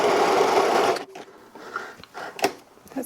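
A sewing machine stitches a blouse in a fast, continuous whirring burst for about a second, then stops, leaving scattered clicks and small mechanical knocks nearby.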